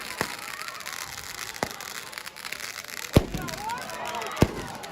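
Fireworks exploding in footage played back during a podcast, heard as about four sharp, separated bangs with crackling in between, mixed with faint background voices.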